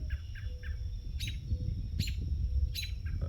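Several songbirds chirp and tweet on a quiet morning after a flood, bright repeated calls coming in short bursts at moderate distance over a faint low background hum.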